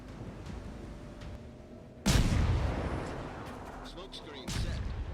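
Destroyer guns fire on a battleship in the World of Warships naval game. A sudden booming salvo is followed by a long rumbling decay, then a second blast, all under a low ambient hum.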